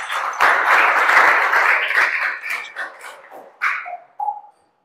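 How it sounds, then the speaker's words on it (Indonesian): Students in a junior high school classroom clap together in a loud, dense burst that thins into scattered claps and fades out with a few final strikes. "Oke, tepuk tangan tuh semuanya."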